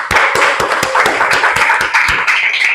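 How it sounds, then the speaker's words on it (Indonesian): Classroom students clap their hands together in a dense, continuous burst of overlapping claps from a nearby group. The sound is loud and sustained throughout, with no speech over it. "Oke, tepuk tangan dulu lagi."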